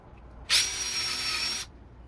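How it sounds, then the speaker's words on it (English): A power drill bores a single hole in a wooden slat of an outdoor Adirondack-style chair with one steady, high-pitched whir lasting about a second. It starts and stops abruptly, close and fairly quiet, with no talk. "I'm going to drill one hole."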